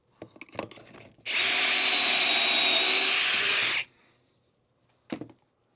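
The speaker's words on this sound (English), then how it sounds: "And drill our pocket holes." Rapid clicks, then a loud high-pitched power drill whirs steadily for a few seconds while drilling pocket holes in clamped ledges for a French cleat clamp rack, before stopping; a last click follows.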